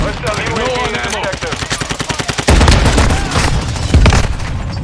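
Rapid automatic gunfire and heavy booms from a multiplayer shooter game, with bursts of shots and explosions stacking loudly throughout, a voice speaking briefly over the din.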